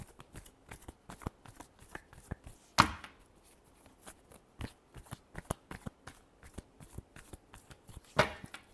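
Tarot cards are shuffled by hand in a quick series of crisp riffling snaps, irregular and close, with two louder bursts standing out among the softer flicks.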